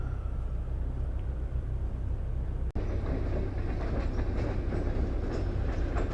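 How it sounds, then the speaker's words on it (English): A train rumbling steadily across a bridge over the Caloosahatchee River, close and loud with continuous clickety-clack of wheels on rails and a brief sharp bang partway through. "Here comes the train."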